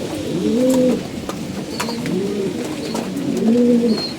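Pigeons coo close by in three repeated, rolling phrases, soft and throaty, with faint chirps in the background.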